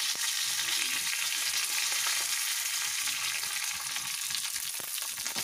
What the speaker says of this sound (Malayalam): ഒപ്പം തന്നെ നമുക്ക് ഉഴുന്നുപരിപ്പും കരളപ്പരിപ്പും ചേർക്കാം.